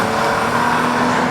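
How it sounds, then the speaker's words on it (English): A 2014 Cadillac CTS V-Sport's tuned V6 engine and exhaust roar loudly and close, a brief sustained growl with a steady droning tone and no break. "This could quite possibly be one of the best sounding V6 engines, turbo or non-turbo, I've ever heard"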